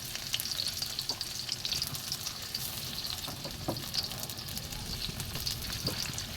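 Onions browning in a pan sizzle and crackle steadily, a close, continuous frying hiss with small pops throughout, no voices.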